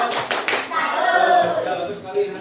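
Classroom students perform a rhythmic 'tepuk salut' clap: a few quick, sharp claps at the start, then a voice talks.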